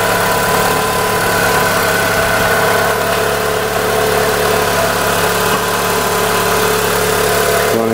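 A junkyard Mitsubishi 4G69 engine in a 2004 Lancer Ralliart idling steadily and loudly up close, a smooth constant hum with no one speaking.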